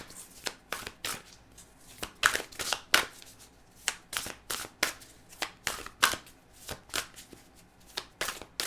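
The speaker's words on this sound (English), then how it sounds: "I'm going to pull one last card" Deck of reading cards shuffled by hand, a quick series of crisp riffling bursts and taps in an irregular rhythm, close and fairly quiet, with no talk.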